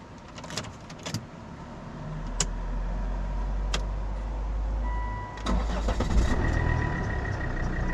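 A vehicle engine near Haltwhistle Burn: a few sharp clicks like keys come first, then the engine cranks and catches, settling into a steady, close idle.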